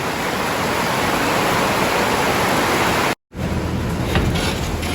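Heavy rain pours down hard on a pigeon loft, a dense, loud, unbroken roar that cuts out for a split second and then resumes just as strong.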